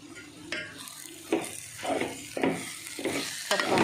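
Dal is stirred and fried in a pan with turmeric and chili powder while being cooked for Mysore dal curry, producing steady sizzling broken by repeated scraping strokes of a spoon across the pan every half second or so.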